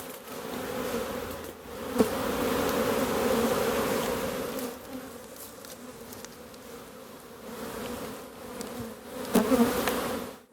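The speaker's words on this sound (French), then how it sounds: "il suffit d'une belle journée qui s'annonce pour que les abeilles s'en donnent à cœur joie" Honeybees fly around beehives in a spring apiary on a fine day, a close, steady buzzing drone that rises and falls as insects pass the microphone, with no talk.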